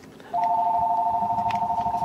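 A phone notification chimes in as a sustained electronic tone that starts abruptly and holds steady for almost two seconds, clear and fairly loud over a quiet room.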